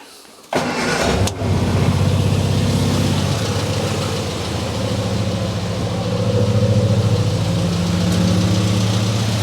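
A car engine fitted with an SU carburettor cranks and fires, then settles into a steady, even idle with a low rumbling tone that rises slightly near the end, close and loud, with no talking.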